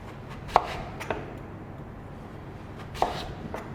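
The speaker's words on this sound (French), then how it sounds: "avec le butternut, on va couper des tranches pas trop épaisses, un demi-centimètre." A knife cuts butternut squash into half-centimetre slices, giving a few crisp, close chopping strikes against a board, separated by quieter pauses and soft cutting sounds, with no speech.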